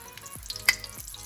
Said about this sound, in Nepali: भाँडा तातेपछि म यसमा घिउ राख्दैछु